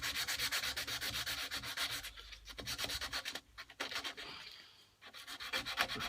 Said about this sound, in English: So just rub across a little bit just to make sure the dust is getting into there, and then finish off going with the grain